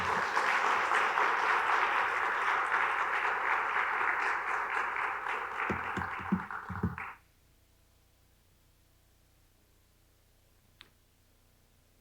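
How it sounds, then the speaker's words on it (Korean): Church congregation at a Wednesday service welcomes a guest speaker with sustained clapping for about seven seconds, which then stops abruptly into near silence with one faint click. "우리 박수로 환영해 드리겠습니다."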